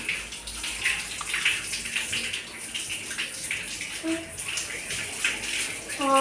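Something being washed under a running tap, with a steady broadband rush of water continuing throughout, plus faint clinks and brief tonal clatter near the end.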